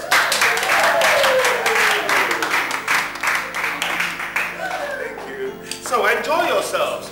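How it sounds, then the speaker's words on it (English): Guests at a party clap and applaud, loudest in the opening seconds, with people talking over and after the applause. "A big round of applause."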